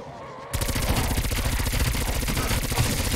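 A gun in a video game fires in a rapid, evenly spaced burst of loud shots that runs continuously without pause.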